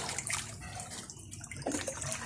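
A person swimming in flowing water from a spring-fed stream: close splashing and sloshing bursts that rise and fall irregularly over running water, with no voices.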